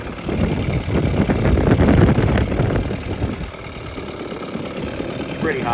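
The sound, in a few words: first boat's engine idling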